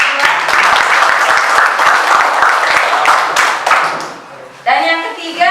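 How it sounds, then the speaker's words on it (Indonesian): Classroom applause from a group of students, a dense clatter of many hands clapping close by for about four seconds, fading out before a voice speaks at the end. "Kita kasih tepuk tangan untuk yang kedua"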